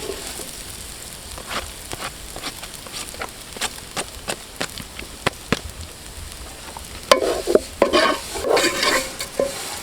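A spoon stirs onion and chilli flakes frying in a pan for a chicken masala, giving steady close sizzling with regular scraping strokes, then a louder clatter of stirring near the end.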